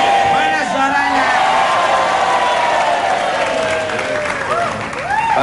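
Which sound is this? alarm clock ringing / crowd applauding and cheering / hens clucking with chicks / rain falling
crowd applauding and cheering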